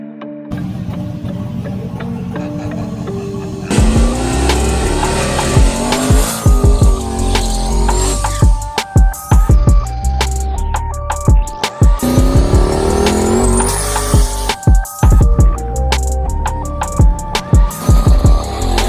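A turbocharged 5.3 Mustang makes well over 1100 horsepower on a dyno. The engine roars loudly with high whining turbo tones and repeated revs that rise and fall, broken by brief gaps between pulls.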